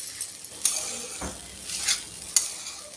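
Poha ingredients stirred in a pan right after salt is added, with a few sharp metal scrapes and clinks of the spoon against the pan over a soft continuous sizzle.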